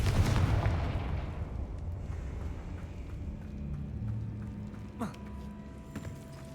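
A Confringo blasting spell cast in Hogwarts Legacy, a heavy booming blast at the start that rumbles and fades, followed by softer game sounds and a brief whoosh.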